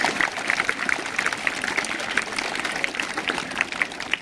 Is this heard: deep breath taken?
no